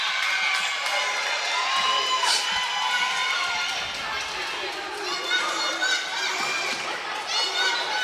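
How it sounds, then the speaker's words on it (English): Crowd at a Wednesday night high school varsity volleyball match, Lorain vs. Garfield Heights, with loud, continuous cheering and shouting filling the gym, many young voices yelling together throughout. "Pretty raucous crowd here for a Wednesday night volleyball match."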